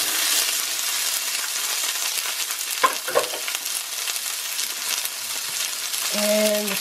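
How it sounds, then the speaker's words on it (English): Pepper and snap peas stir-fry in hot oil with a steady, close sizzle throughout, broken by a couple of brief utensil clatters midway and a short tonal clink near the end. "We will start with the pepper."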